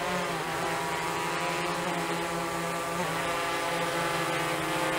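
A DJI Mavic 3 drone flies with its propellers giving off a steady, loud, close buzzing whine that shifts pitch slightly around the middle, with no voices.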